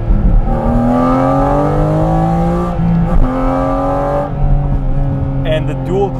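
A Porsche GT4 RS engine pulls along the road, its loud, close note climbing steadily through the gears with brief dips at each shift, while the car's interior rumble fills the background.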